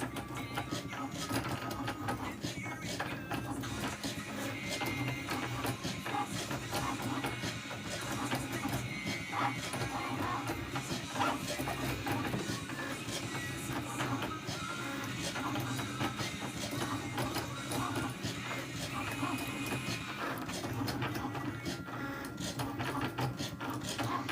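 A Cricut Maker digital die cutting machine cuts static suncatcher film, producing a steady mechanical whir and scraping hum that runs continuously and fairly quietly throughout, with a person talking over it at times.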